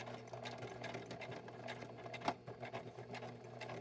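A sewing machine chain stitches pockets cut from wallpaper, a close, steady, fast stitching hum with a faint rustle and one brief sharp click partway through.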